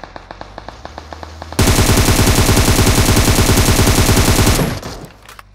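Sustained automatic gunfire in the mobile battle royale game PUBG Mobile, a loud rapid burst of shots that runs about three seconds after a lighter run of spaced single shots, then cuts off abruptly.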